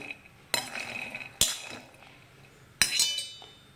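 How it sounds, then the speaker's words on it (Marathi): Peanuts dry-roasting in a pan, heard as three separate sharp metallic clinks and scrapes of a spoon against the pan, close and clear with quiet gaps between and no talking. "आता शेंगदाणे खूपच भाजून घ्यायचे. हे खूप असे लालसर भाजायचे."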